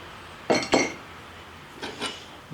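A homemade double-sided metal scraper being sharpened, with two quick, sharp metallic squeaks followed by two fainter ones, close and without talk.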